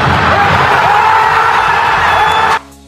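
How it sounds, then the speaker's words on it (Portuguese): Atlético Mineiro supporters at Arena MRV during a Libertadores match against Rosario roar in a loud, dense, continuous crowd cheer with whoops and shouts, cutting off abruptly near the end. "Nas arquibancadas tivemos uma grande festa da torcida do Galo"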